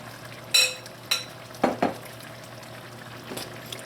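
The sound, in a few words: stirring rice in a pot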